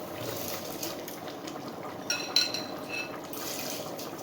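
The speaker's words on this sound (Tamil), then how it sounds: "இப்போ தண்ணி நல்லா கொதிச்சிருச்சுங்க." Water boiling in a pot, a steady bubbling hiss with a few brief pops, moderately quiet and continuous, no voices.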